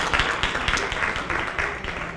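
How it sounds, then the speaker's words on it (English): An audience applauds contestants at a city MLK oratorical contest with dense, steady clapping filling a hall, moderately loud and sustained throughout. "Let's give them a round of applause again"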